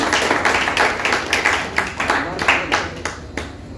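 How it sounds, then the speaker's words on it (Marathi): Audience applause at a senior citizens' gathering of a community service organisation, congratulating a doctor: a dense run of overlapping hand claps from many people, steady and fairly close, with a faint voice underneath. "सगळ्यांनी टाळ्या वाजवून अभिनंदन करूया."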